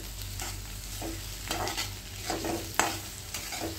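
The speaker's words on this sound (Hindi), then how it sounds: "शिमला मिर्च के पीसेस को डाल देंगे और इसको भी फ्राई करेंगे।" Capsicum pieces frying for a vrat-style vegetable khichdi, a close, soft sizzle with repeated scraping strokes of a spoon stirring in the pan.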